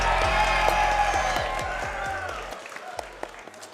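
A VR esports LAN crowd at VRML CON 2024 cheers and applauds during a Breachers grand final. Sustained clapping and whoops fill the first couple of seconds, then fade into scattered claps and calls.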